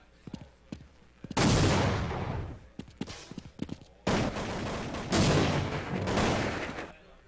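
Counter-Strike 1.6 match gunfire and grenade blasts: bursts of rifle shots, then long loud sustained volleys and explosions in quick succession, close and intense.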